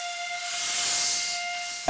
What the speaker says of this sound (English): We feel like we've gone back to the 17th century in this fully operating steam train.